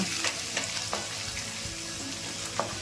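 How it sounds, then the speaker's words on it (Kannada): Chopped carrots frying in a spice tempering in a pan, a steady close sizzle broken by a few sharp spatula scrapes and stirring clinks, with no talking. "ಕಟ್ ಮಾಡಿ ಇಟ್ಕೊಂಡು ಕ್ಯಾರೆಟ್ ಹಾಕೊತಾ ಇದ್ದೀನಿ. ಇದನ್ನು ಒಗ್ಗರಣೆ ಜೊತೆ ಫ್ರೈ ಮಾಡ್ಕೊಂಡ್ಬಿಡೋಣ."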